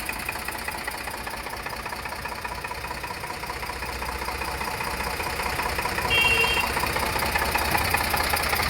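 An Eicher 485 tractor with power steering idles nearby, its diesel engine knocking in a steady, even rhythm that stays loud and unbroken throughout.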